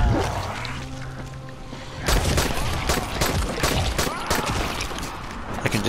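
Gunfire in the video game Dying Light, a rapid burst of shots breaking out close and loud partway through, mixed with clattering impacts and game ambience.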